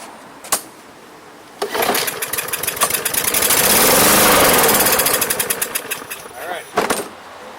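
An MTD 140cc lawn mower with a Briggs and Stratton engine fires up on starting fluid, running with a rapid ragged putter that swells to a loud roar and then fades before dying out, close by.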